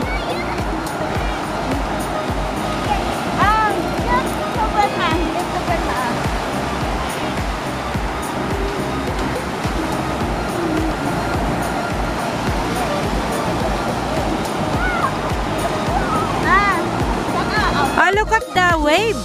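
Strong ocean waves roll onto Tannum Sands beach in Queensland, a constant loud roar of surf with wind, while several people talk and call out over it.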